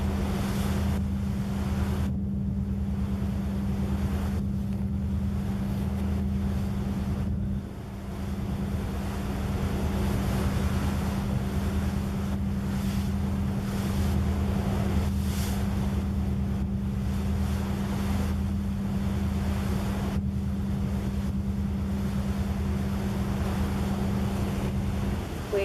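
Ship sailing into Deception Island, Antarctica: a steady low engine drone with wind buffeting the microphone and faint water rush, continuous and even throughout.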